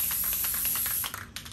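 An aerosol spray can hisses steadily while coating a custom water bottle, a close, continuous spray lasting about a second before breaking into a few shorter bursts.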